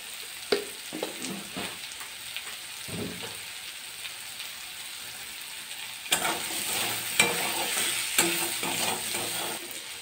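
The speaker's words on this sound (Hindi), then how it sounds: "आलू को पकने में थोड़ा टाइम लगता है, इसलिए हम इसे पहले पका लेंगे" Potatoes fry in a pan with a steady soft sizzle, broken by several scraping strokes as they are stirred, growing a little louder and busier toward the end.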